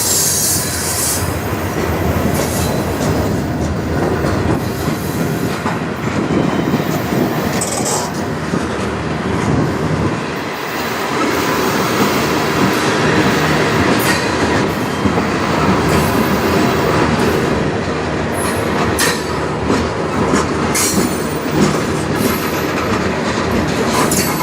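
A CN freight train rolls past in Sarnia, Ontario, a loud, continuous rumble of wagons with rhythmic wheel clatter and occasional squeals from the rails, close by throughout.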